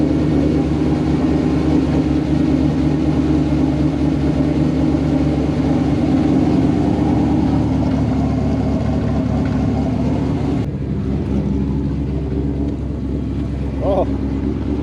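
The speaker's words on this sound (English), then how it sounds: "It is cammed, so it takes a little bit extra time. So we'll just let it idle for a couple seconds." Cammed Whipple-supercharged Ford GT500 V8 idling after six months of winter storage, a loud, steady, lumpy low rumble that continues unbroken, with a voice talking briefly over it.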